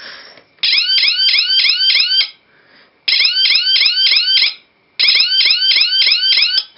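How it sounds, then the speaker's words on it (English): Loud electronic alarm from an Arduino laser tripwire set sounding in three bursts of rapid, repeating chirping tones, each burst separated by a short pause. "And because the siren is loud, I'm going to cover it up."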